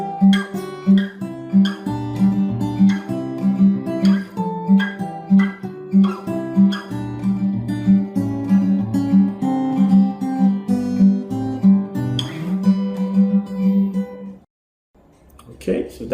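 The chorus of a song fingerpicked on an acoustic guitar, a steady plucked melody with bass notes and ringing strings, loud and close, ending abruptly into near silence.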